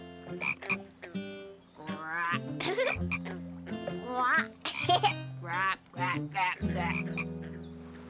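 Baby frogs croak and chirp in a cartoon, close and loud, their calls overlapping with animated voices and music throughout.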